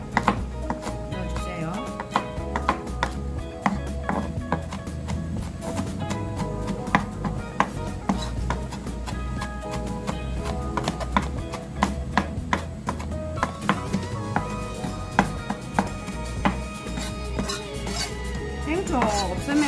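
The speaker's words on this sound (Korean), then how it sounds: "이렇게 잘게 썰어가지고" A knife finely chops vegetables on a cutting board for a stir-fried tiny anchovy dish, producing rapid, steady close-up taps that continue throughout without pause.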